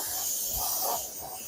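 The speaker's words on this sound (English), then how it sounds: "Kind of like spraying candy, you want to get it even." Fluorescent paint hisses from a spray can onto a clear Protoform Mazda RC car body in light coats, a close airy spray that swells and eases across a short pass.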